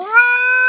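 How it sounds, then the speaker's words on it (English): A single clear, drawn-out meow from a cat indoors, loud and close, rising slightly then holding steady before cutting off, with no talking over it. "Listen to that! Listen to the kitty."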